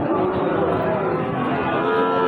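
Loud, sustained lowing of small Sahiwal bulls at a cattle market fills the clip, a deep drawn-out moo up close with faint background chatter.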